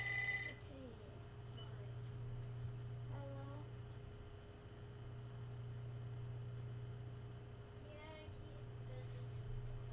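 A telephone rings in a home fish room full of aquarium racks, giving three separate electronic rings spaced several seconds apart over a constant low equipment hum.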